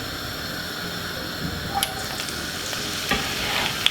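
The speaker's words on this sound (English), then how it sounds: "We're going to put in all of those lovely veg we should just cut up a while ago and fry them off." Vegetables frying in olive oil in a pan, a steady close sizzle with crackles and a few stirring clinks, no talking, for a classic Caribbean fry-up with salt fish and cornmeal dumplings.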